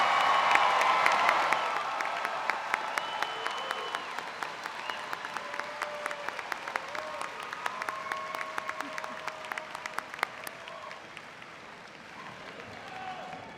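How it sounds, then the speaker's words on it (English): An audience applauds the new KSU graduates at a spring commencement. Loud, dense clapping with some cheers and whoops comes from a large crowd, then thins into scattered claps and slowly dies down over more than ten seconds. "let's give our newest KSU alum a round of applause"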